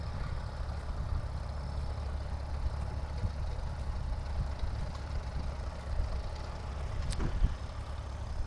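A tractor engine made by Allis-Chalmers idles steadily outdoors at a gas and steam engine show, a low, even rumble that carries on without a break.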